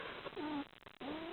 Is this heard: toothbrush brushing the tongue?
no